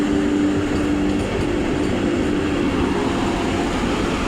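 Another train overtakes the Gitanjali Express, a steady, loud rumble of rolling rail wagons heard from on board, close and continuous with a brief tonal whine early on.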